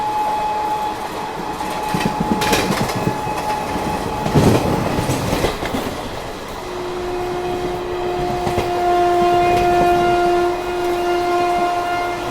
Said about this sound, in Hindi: ज़बरदस्त रफ्तार में स्किप कर रहे हैं चंदेरा को हम लोग।